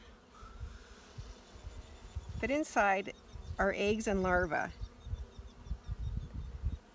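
Honey bees swarm over brood comb holding eggs and larvae, their steady low buzzing running throughout beneath a person talking close by.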